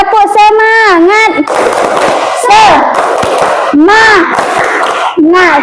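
Schoolchildren in a classroom chant a loud, rhythmic 'tepuk semangat' cheer together, voices rising and falling in a sing-song pattern with bursts of noisy clapping and shouting between the phrases.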